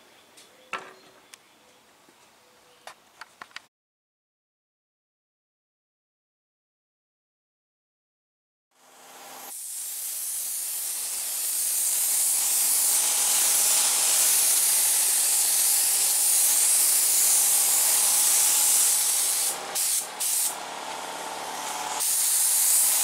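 Chevy Inferno Orange paint sprayed onto custom fiberglass car door panels, a loud steady hiss that starts after a few seconds of small handling noises and a silent gap, with brief interruptions near the end.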